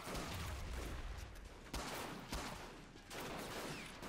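Gunfire in a war video game set during the Japanese invasion of China: a dense, continuous rattle of distant shots with a few louder bursts, fairly faint throughout.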